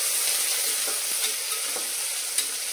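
Thinly sliced onions fry with a steady, bright sizzle in a pressure cooker while they are cooked for chicken biryani. Faint stirring scrapes come through the hiss, and no voice is heard.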